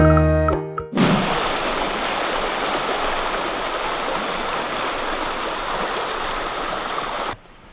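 Steady, close rush of clear water flowing along the Tapuacan River in Cares, Pugo, La Union, a broad continuous roar that starts after a brief clatter and holds evenly for several seconds before cutting off.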